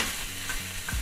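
Beaten egg for a Japanese rolled omelette sizzles steadily in a hot pan, close and moderately loud, with soft scraping and stirring of utensils and no voices.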